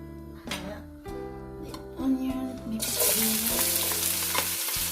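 Onion and garlic frying in a pan for Pinoy noodles, a quieter start with tonal background hum, then a bright, steady sizzle that swells and stays loud and close.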